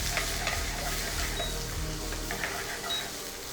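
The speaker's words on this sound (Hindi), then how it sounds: "सबसे पहले अनियन, प्याज समय लेता है पकने में," Onions sizzle and fry in a pan, a soft, continuous crackle at close range with faint stirring scrapes and no voices.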